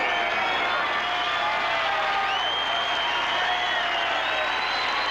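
A large crowd of about 30,000 at Yankee Stadium cheers and applauds after the Yankees' final game of the 1984 season against the Detroit Tigers, a dense, steady roar from a distance.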